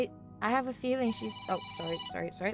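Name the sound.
phone ringing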